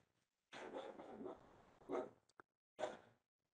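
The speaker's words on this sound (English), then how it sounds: "My apologies, I have a dog." A dog barks and whines in a few short bursts, a sustained whining yelp followed by two sharper barks, in an otherwise quiet indoor room.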